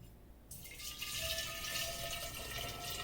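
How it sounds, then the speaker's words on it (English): Liquid is poured from a big pot into a small container through a funnel while making sugar shine mash, a steady splashing stream that starts abruptly after a short quiet moment and continues loud to the end. "You're going to pour the big pot into this little thing here."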